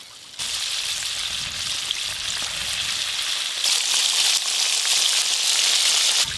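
KFC-style chicken pieces frying in hot oil, a dense, steady hiss that swells louder partway through and holds close and continuous, with no talking.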